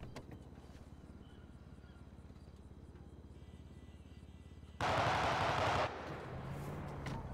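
Gunfire in a GTA roleplay game crackles as a steady rapid burst under a low engine hum, then a much louder, harsher blast of shots surges near the end before fading back.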